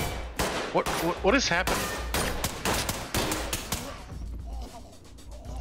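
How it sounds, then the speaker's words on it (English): Rapid bursts of gunfire in the Ready or Not tactical shooter game, loud cracking shots in quick clusters, with a player speaking over them. "Who's shooting? What is shooting?"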